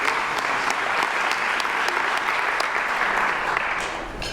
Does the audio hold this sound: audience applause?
yes